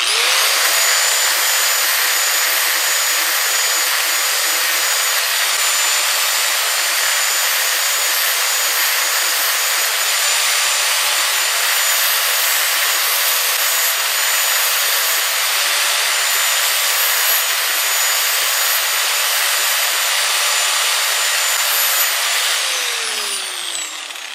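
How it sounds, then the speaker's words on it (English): A 4.5-inch angle grinder with a sandpaper flap disc, working on an axe handle and head, whines loud and steady for over twenty seconds before spinning down at the end. "really nice having a uh, four and a half inch grinder with this sandpaper flapper disc dealy on there"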